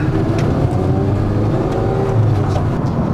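Honda Civic Type R FK2 turbo hatchback pulling away, engine droning and revving loudly from inside the cabin, a continuous throaty rumble with slight rises in pitch.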